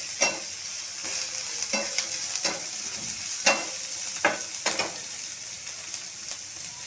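Vegetables for Schezwan noodles stir-fried lightly in a hot pan or wok, a steady close sizzle broken by repeated scraping strokes of a spatula at an uneven rhythm, with no voices.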